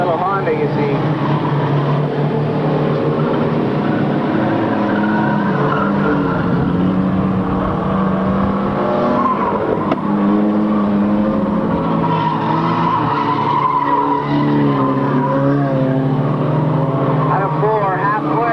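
Race cars, including a small Honda, roar around a track in a 1998 race, a steady loud engine drone with shifting pitch, heard under continuous announcer commentary.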